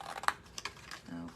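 Scissors trimming the corners of a cardboard treat box give a few sharp, close snips and clicks spread unevenly through a short moment, with faint rustling between them.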